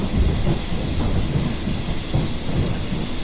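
A Class 378 electric train in the Train Simulator video game on the London Overground, giving a steady loud rolling rumble with faint rhythmic wheel clatter and a constant high hiss, no talk.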